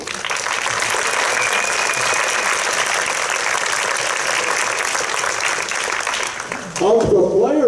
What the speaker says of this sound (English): And Gordon and Audrey, would you please stand up and take a round of applause?